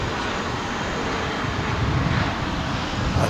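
A Boeing 787-9 Dreamliner airliner, American flight from Honolulu, arriving at Dallas/Fort Worth International Airport, heard as a steady broadband engine roar with low rumble, fairly distant and continuous, with no talking.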